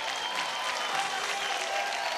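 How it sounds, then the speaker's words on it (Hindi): Steady, dense applause from a studio audience on a televised Indian singing competition show, continuous hand clapping filling the whole stretch at moderate loudness with no voices on top. "जोरदार तालियां विशाल जी"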